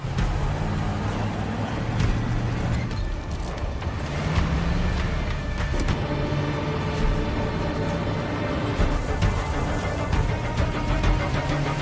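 A car chase from the film Borrego: a steady, loud roar of vehicle engines and rushing motion that fills the whole stretch without a break, with no one speaking.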